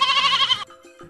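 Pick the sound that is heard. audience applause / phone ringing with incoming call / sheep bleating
sheep bleating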